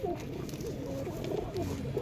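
A pigeon held and shown for sale gives soft low coos throughout, a continuous gentle murmur over steady background noise, with no clear talk.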